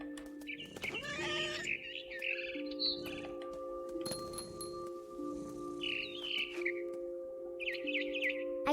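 A mother bird chirps in short high twittering bursts in What Remains of Edith Finch, heard in the tree setting over a steady tonal musical drone, with several separate chirp clusters spread throughout.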